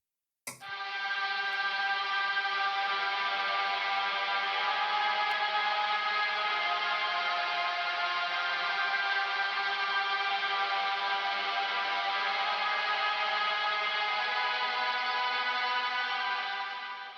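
Ambient electric guitar from a Neural DSP Archetype Gojira rhythm preset drenched in reverb: one strummed chord swells into a dense, sustained, shimmering wash that holds steadily for the whole stretch, loud and without talk.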